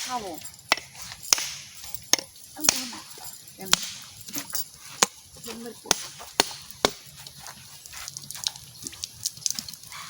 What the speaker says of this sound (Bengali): চলো নারকেলটা ফাটাই নিচ্ছি নারকেলটা কাটে মাঝখানে টুকরো করে নিই